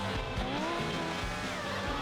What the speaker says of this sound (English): all the cars have different sounds now for their motors